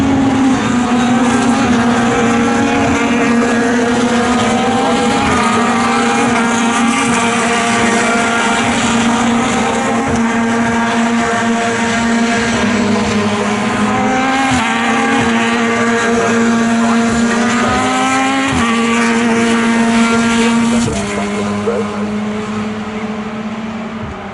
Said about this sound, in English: Kieran Dewis round the outside through Schwann's curve